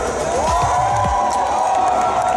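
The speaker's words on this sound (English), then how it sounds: "a massive cheer for everyone else here." A large comic convention audience in a hall in Belgium lets out a loud, sustained cheer, with whoops and a few rising shouts in the first second over a dense, continuous roar.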